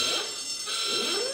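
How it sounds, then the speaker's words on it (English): A game show buzzer rings out as a brief loud electronic tone that holds steady, sounding alone with no voices. "I can't believe I got a buzzer again"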